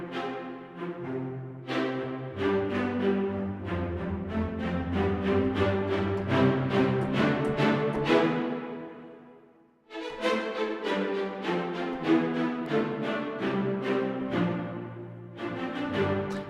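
Layered orchestral string ensemble playing sustained, overlapping chords in a flowing passage, briefly fading to near silence midway before the strings return, rich and reverberant with no talk.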